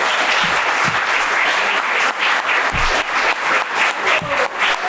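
Enthusiastic audience applause closes a book festival after a first-novel presentation, loud, dense clapping sustained throughout, with a few sharper individual claps standing out near the front.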